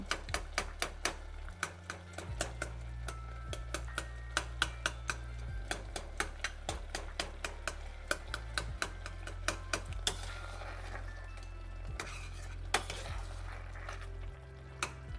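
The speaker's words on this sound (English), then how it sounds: "Chopping it and chopping it and chopping it." A knife chops cooked greens for saag on a board in a fast, uneven run of sharp clicking taps over a low steady hum, with no talking.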